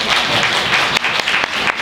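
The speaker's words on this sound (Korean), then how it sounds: "큰 박수 한번 부탁드리고요" A seminar audience at a US college admissions event gives a brief burst of steady clapping, close and fairly loud, with a few sharper individual claps near the end.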